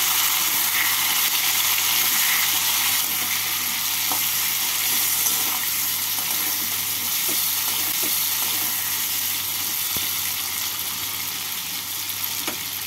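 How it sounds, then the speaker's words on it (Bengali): Chopped tomato stirred into frying potatoes in a pan for a vegetarian pumpkin curry gives a steady, loud sizzle and hiss, with scattered soft scrapes and taps of a spoon. "টমেটোটাকে আলুর সাথে নাড়াচাড়া করে নেব।"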